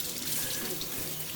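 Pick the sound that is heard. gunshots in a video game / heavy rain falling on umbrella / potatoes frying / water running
water running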